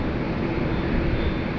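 Qantas flight 11 at Sydney Airport, a steady broadband roar of aircraft engine noise, loud and unbroken, with no voices.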